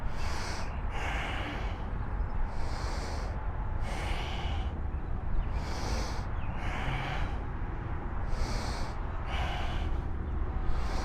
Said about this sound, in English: exhaling through the nose at the bottom